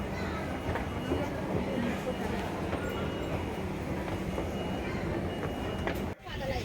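Train arriving at a station platform, a steady low rumble of rail cars mixed with crowd babble and people talking, ending in a brief dip near the close.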